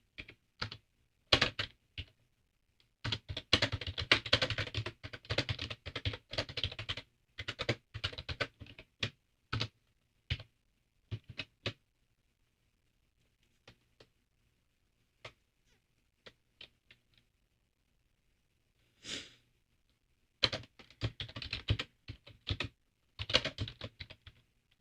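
Bursts of rapid computer keyboard typing, close and clear, come in several runs separated by quiet pauses, with isolated keystrokes in between.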